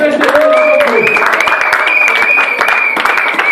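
A congregation applauds together during a Sunday church service, acclaiming the Lord Jesus. The clapping is loud, dense and sustained, with voices ringing out above it.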